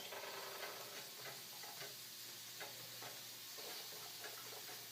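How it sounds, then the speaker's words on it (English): Carrots sizzle and crackle in hot oil in a pan, a steady frying hiss with scattered pops and occasional stirring knocks, close up and without talk. "So it's sizzling right now."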